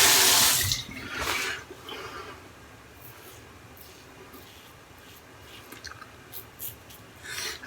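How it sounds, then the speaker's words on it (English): Running water from a tap rinses a two-sided double edge safety razor, heard as a close, brief splashing gush at the start, then fading to faint intermittent trickles and drips. "when you use both sides of the razor, it has two-sided double edge, you can rinse it off."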